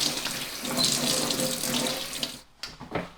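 Soapy water is poured out of a cleaning container, a close, steady splashing stream for over two seconds that stops abruptly, followed by a few trailing drips.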